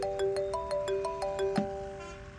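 A mobile phone rings with an incoming call, its ringtone a repeating electronic melody of short tonal pulses, steady and fairly clear with no talking over it.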